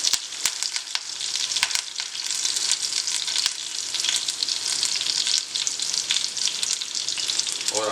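Curry leaves sizzling in hot oil, a continuous close crackle with sharp popping bursts early on, settling into a steady hiss.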